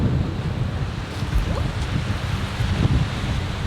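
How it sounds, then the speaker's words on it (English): Strong wind buffets the microphone beside a lake on the way to Milford Sound, a loud, continuous rumbling roar with gusts rising and falling and no voices. "It's windy,"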